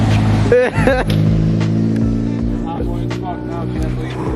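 A chassis-mounted log splitter is driven, its engine giving a close, steady low hum with a few brief rises in pitch. Several people talk and exclaim over it.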